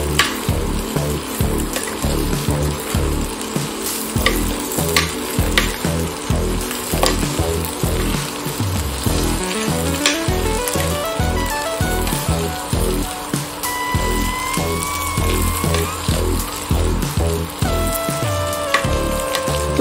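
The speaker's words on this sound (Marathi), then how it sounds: "आता आपण हे छान मिक्स करणार आहोत." Green peas and mixed vegetables for veg pulav sizzle loudly in a hot pan while being stirred, with continuous frying crackle and repeated scraping of the spoon against the pan throughout.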